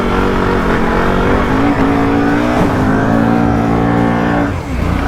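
A Can-Am off-road vehicle's engine revs hard and loud close by while its worn tires spin, with pitch rising and falling in strained bursts.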